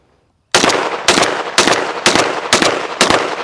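Six loud blasts from a Mossberg 990 12-gauge shotgun held in one hand, fired in a steady, evenly spaced string of close, sharp reports after a brief silence.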